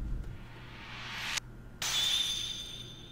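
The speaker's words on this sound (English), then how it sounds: "I hear a shattering sound as though something is cracked open." Glassy shattering crack in the visual novel Aselia the Eternal, a bright burst that cuts off abruptly, followed by a sustained shimmering ring fading away, with no voices.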